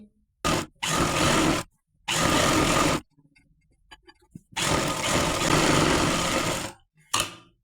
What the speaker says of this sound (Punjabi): ਆਪਾਂ ਇਧਰਲੀ ਸਾਈਡ ਸਲਾਈ ਲਾ ਦੇਣੀ ਆ ਫਿਟਿੰਗ ਵਾਲੀ